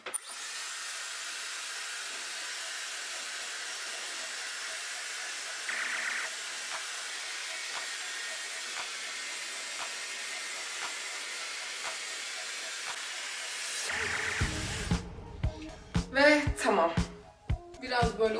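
A Dyson hair dryer blows steadily on hair as a continuous loud airy whoosh with a high whine, running for most of the stretch before cutting off near the end, after which a person talks.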